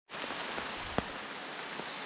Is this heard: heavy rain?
yes